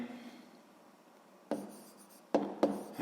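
A pen scratching on paper while working a sixth-grade math exercise, close and quiet, with a faint stroke early on followed by three sharper bursts of writing in the latter half.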